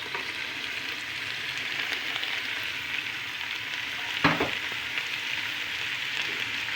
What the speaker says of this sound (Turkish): Salçamızı da biraz kavurduktan sonra pırasamızı, havucumuzu ilave ediyoruz.